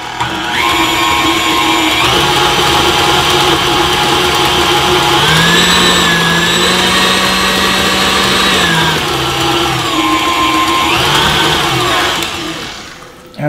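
Cake batter with cinnamon and shredded coconut being mixed by an electric mixer, a loud, steady motor whir that rises in pitch in the middle and settles again before stopping at the end.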